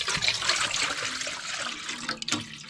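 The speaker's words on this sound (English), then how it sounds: "Add 500 milliliters of boiling water." Boiling water pours and splashes into a camping meal pouch during bitterly cold winter camping, a short continuous rushing gurgle that breaks off near the end with a couple of final splashes.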